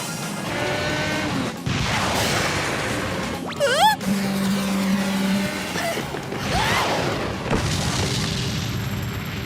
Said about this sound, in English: Let's see you stunt your way out of getting blasted with my titanium missiles!